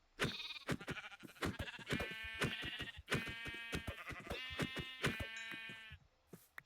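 Game sheep bleat repeatedly in a village setting, a rapid series of loud, close, quavering calls overlapping one another with no talk.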